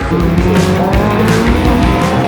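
A race car roars loudly at Knockhill circuit in Scotland, its engine note climbing and shifting with bursts of tyre squeal over a steady, close mechanical drone, with no one speaking.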